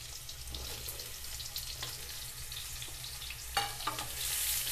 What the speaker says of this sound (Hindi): अब इसमें हम जो परवल कटा हुआ था वो डाल देते हैं और डालकर अच्छे से फ्राई कर लेते हैं